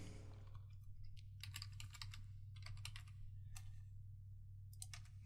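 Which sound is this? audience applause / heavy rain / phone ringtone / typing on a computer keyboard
typing on a computer keyboard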